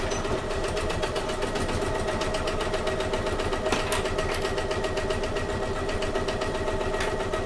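A sewing machine runs steadily, stitching through bag fabric at a standard stitch length with a constant fast mechanical whir and rattle, close and continuous.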